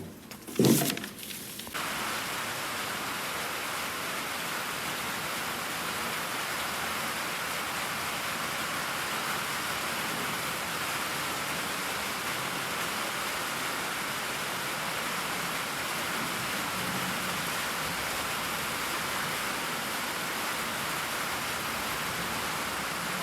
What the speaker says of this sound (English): it's starting to rain. You can hear it on the tin roof